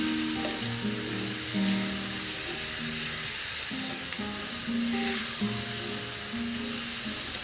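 Paneer masala curry with tomato ketchup sizzles in a pan while being stirred, a steady frying hiss with scrapes of the spoon, close and alone under soft background music.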